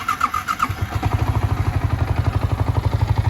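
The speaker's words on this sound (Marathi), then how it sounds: "मी बाईक स्टार्ट करतो आहे आणि तुम्हाला साऊंड ऐकवतो आहे" A Yamaha R15 V3 motorcycle with a cut exhaust pipe starts and settles into a loud, rapid, uneven idle, its low exhaust pulses thumping steadily and close by.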